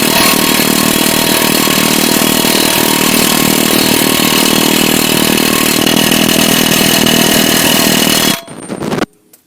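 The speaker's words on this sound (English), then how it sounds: "let's get the axle nut tightened up" A loud, continuous buzzing rattle of a power tool tightening the axle nut on a Charger R/T AWD front axle, close and harsh for about eight seconds before it cuts off abruptly.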